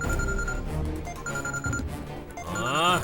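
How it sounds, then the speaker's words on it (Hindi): A telephone ringing in a Hindi film scene in repeated electronic bursts, fairly close, with a short pause between rings and a rising warbling tone near the end. "भाई, वकील का फोन।"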